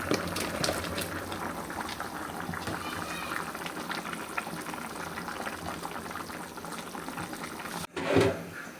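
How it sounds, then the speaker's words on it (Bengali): Curry broth bubbling at a steady boil in a pot with plantain, before fried hilsa fish go in, with a continuous close simmering fizz and a brief clatter near the end. "ঝোলের পানি ফুটে উঠেছে"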